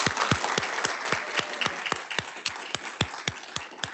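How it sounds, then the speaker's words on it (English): An audience at a scientific announcement applauds a panel, a dense burst of clapping with loud, rhythmic individual claps close by that grow sparser and more spaced as it winds down. "Let's give this panel a round of applause."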